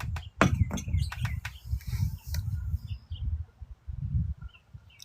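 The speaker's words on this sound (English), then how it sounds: "And there's beautiful birds out." Birds chirp and sing outdoors in sharp, quick tweets, mostly in the first few seconds, over a low rumbling background that may be handling or wind noise.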